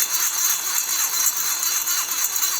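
A grinder textures a surface at low RPM, giving a steady, hissing, high-pitched grinding with a slight pulsing rhythm as the tool is worked back and forth, close and continuous.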